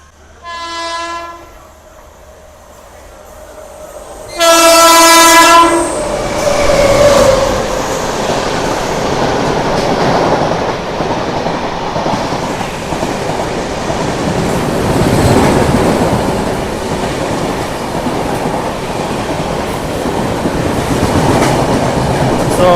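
A Karimnagar–Tirupati weekly superfast express with LHB coaches blasts two loud horn calls, then rolls on with a steady rumble and rhythmic clatter of wheels over rail joints, near and sustained.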